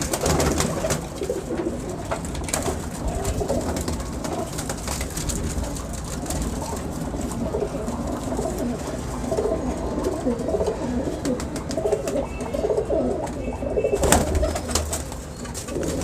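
A flock of pigeons coos continuously up close, with overlapping throaty calls forming a dense, busy murmur, while occasional handling noises and faint background voices drift underneath.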